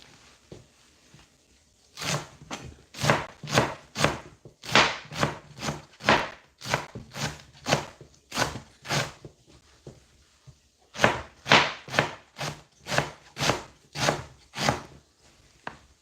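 A knife slices through a freshly harvested vegetable in steady, rhythmic cuts, close and crisp. About two dozen strokes come in two runs separated by a brief pause, with no talk.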